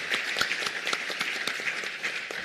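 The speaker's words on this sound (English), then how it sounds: "Request to give a big applause to our panelists." Steady audience applause at a sustainable industries conference in South Africa, with dense overlapping claps and a few sharper individual claps running continuously at moderate volume.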